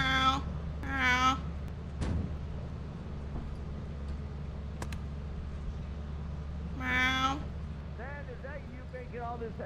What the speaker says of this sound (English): So, wait, why the fuck is the cat over here then?